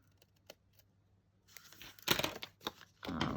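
Paper is cut with a few soft snips and crinkles, followed by louder tearing and rustling bursts close by as the paper is trimmed to size for small 5 by 7 bags.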